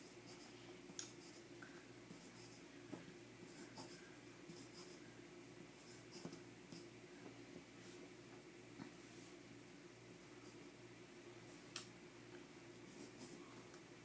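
A pencil sketches hearts on a paper scrapbook layout, a faint steady scratching with occasional light ticks and taps, quiet and continuous, with no one talking.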